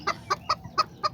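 Five evenly spaced clucks ring out from blue roosters and hens at a family's backyard flock, each call short and sharp with brief pauses between, close and clear over a quiet background.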